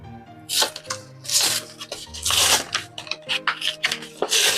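Pokémon Paldea Evolved tripack card packs being handled and opened, giving close, loud bursts of crinkling foil wrapper and shuffling cards in an uneven rhythm with brief pauses between them.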